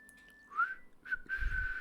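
A person attempts to whistle, producing three short, breathy, wavering whistle notes close up, with a faint steady background tone and a low thump at the end.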